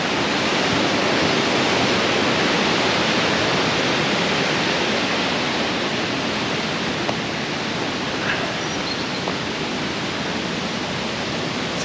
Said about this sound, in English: Very impressive waterfalls there.